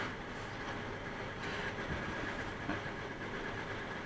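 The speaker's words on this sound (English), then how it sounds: "So we're going to start the vehicle up." A 2001 Ford Ranger with a 3.0 V6 engine runs steadily after start-up, giving a faint, even idle hum with no talking.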